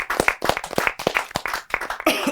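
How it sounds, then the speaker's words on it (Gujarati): Scattered audience clapping for a guest at a Gujarati interview podcast, a run of quick sharp claps, close and fairly loud, with a murmur of voices under it. "એક વખત જોરદાર તાળીઓ સોની માટે"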